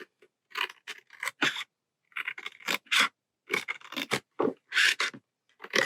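A small blade trims a thin sliver off the bottom edge of a wooden gardener's box piece, giving clusters of short scraping strokes in quick bursts with brief pauses between, close and clear with no talking.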